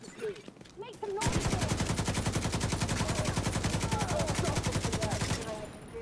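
Rapid automatic gunfire from the player's weapon in The Division 2 rattles out in a long, steady burst lasting several seconds, loud and close, with a brief voice near the start before the shooting.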